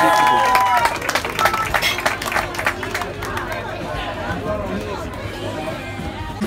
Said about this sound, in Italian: Un applauso per Nicola Durante.